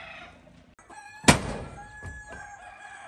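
Chickens outdoors on a rural property, with a sharp burst and a rooster's crow rising over quieter clucking and scattered background noise, fairly distant and brief.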